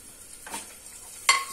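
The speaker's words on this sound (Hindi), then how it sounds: "हमारा मसाला देखो भून चुका है" Spice masala with garlic and ginger paste frying in a pan for aloo sabzi, a soft steady sizzle broken by a couple of quick stirring scrapes, the last one sharper and closer.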